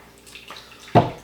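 Blood Oath bourbon whiskey, 98.6 proof, is poured into a glass in a brief, close splash that starts suddenly and trails off, with a faint background hiss before it.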